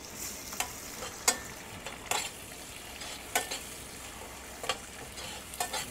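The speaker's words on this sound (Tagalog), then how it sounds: "So malambot na yung ating ginigisa." Chopped tomatoes sauté in a pan, a soft, low sizzle broken by sharp spatula scrapes and stirring clicks at irregular intervals, close and quiet with no talking.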